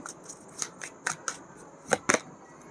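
Tarot cards are pulled from a deck with a quick series of crisp, papery flicks and snaps, close and clear, with no talking.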